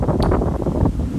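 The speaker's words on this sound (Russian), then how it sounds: "Вот даже по деревьям видно, какой ветрище." Strong gusty wind blowing through trees, a loud continuous low roar and rustle buffeting the microphone throughout.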